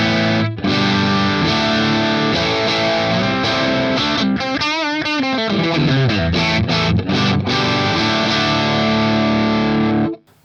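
Distorted electric guitar through a cabinet miked with a single center-placed SM57 via a Two Notes Torpedo, playing loud sustained chords with a pitch-bending lick midway, bright and clear with little low-mid weight, no talking.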